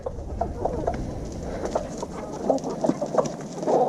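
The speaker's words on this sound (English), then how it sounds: "He's probably the most vicious chicken I have." Chickens in a backyard coop give repeated short clucks and squawks, close by and fairly loud over steady outdoor rumble.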